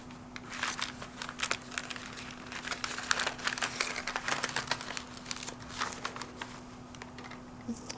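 Close crinkling and crackling of a small coffee-dyed glassine envelope being handled in a junk journal, with continuous papery rustles and light taps over a low steady hum.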